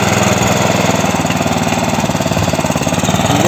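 A small mini tractor engine runs steadily as it drives off to load, giving a loud, close, continuous chugging with a rapid even beat and no talk.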